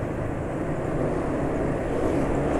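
Steady, smooth engine drone of a motorcycle running on STIHL chainsaw oil while riding at about 40 km/h, loud and continuous with a broad even rumble and no voices.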